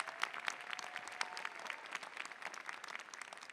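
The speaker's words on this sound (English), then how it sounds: "Give him a nice round of applause also." An audience applauds at a business school commencement ceremony, steady clapping from many hands sustained throughout at moderate distance, with no talk over it.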